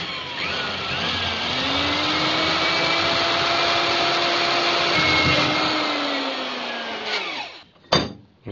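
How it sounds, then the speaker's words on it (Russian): Drill running steadily as it bores a hole into a nut clamped in a vise, a loud sustained whine with a slight dip in pitch before winding down and stopping, followed by a brief clatter. "Керним и делаем отверстие."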